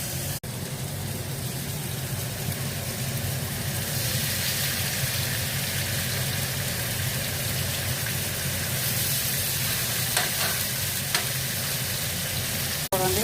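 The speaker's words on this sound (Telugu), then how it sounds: "ఇట్లా తిప్పి ఇది ఇది కిందకి వేసుకొని ఫ్రై చేసుకోవాలండి" Salmon fries in olive oil with a constant close crackling sizzle that runs unbroken for several seconds. A couple of sharp clicks sound near the start and end, and no voices are heard.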